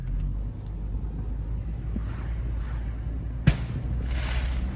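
Deep steady rumble of a Volkswagen MK4 GTI engine idling after starting, close and constant, with one sharp knock partway through and faint voices in the background.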